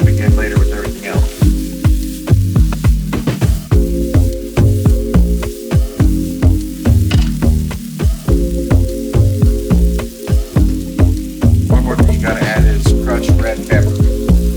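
Onions frying briefly in a pan for Singapore noodles, with a steady loud sizzle running under a dense, pulsing rhythmic layer throughout.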